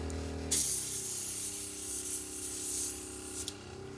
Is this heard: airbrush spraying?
yes